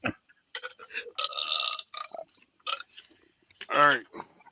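A fake belch played from a sound machine, a single throaty burst toward the end, preceded by scattered short electronic tones and clicks.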